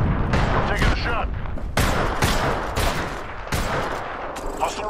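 Repeated heavy gunfire in the battle royale video game Apex Legends, several loud bursts and single shots spaced across the moment, with voices speaking among them.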